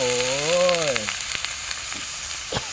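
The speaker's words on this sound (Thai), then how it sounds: "ผัดให้น้ำมันเสด็จนิดนึงนะครับ ให้มันแห้งนิดนึง" Beef being stir-fried with sauce in a pan, a continuous close sizzle of frying, preceded by a brief tonal voice-like sound at the start.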